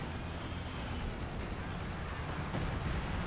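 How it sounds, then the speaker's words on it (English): Artillery fire in the strategy game Company of Heroes 2, a continuous low rumbling barrage of distant booms and blasts with one sharper impact near the end, no voices. "Artillery's coming in to provide some supportive fire"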